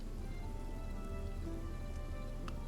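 Steady rainfall in a video game, a constant dense patter on surfaces with a faint underlying hum and no talking.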